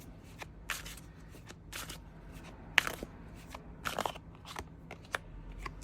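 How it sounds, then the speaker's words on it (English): Tarot cards are shuffled and pulled by hand, giving a string of soft, close flicks and riffles at an irregular pace over a quiet room, with no voices. "All right, let's pull some cards"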